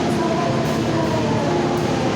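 The Singasari passenger train, a former Krakatau train, stands at an Indonesian railway station, producing a continuous loud mechanical rumble and hum with no clear breaks.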